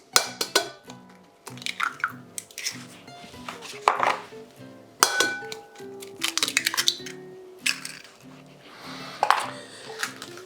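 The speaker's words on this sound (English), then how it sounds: "Crack 2 eggs." Two eggs are cracked into a large mixing bowl, giving sharp taps and clinks against the rim, with kitchen clatter and background music.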